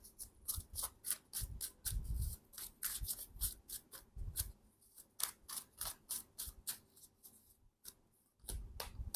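Tarot cards being reshuffled by hand give quick, crisp riffling snaps and flutters in irregular bursts, close and fairly quiet, with brief pauses between shuffles and no talking.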